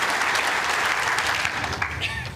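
A large indoor crowd at a world bowls championship bursts into loud, sustained applause and cheering, dense clapping filling the hall.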